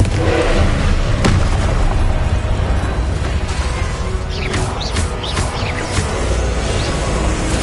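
Blasting spell explosion in Hogwarts Legacy, a loud, dense rumbling boom with crackling debris and magical whooshes layered over a continuous roar, close and heavy throughout.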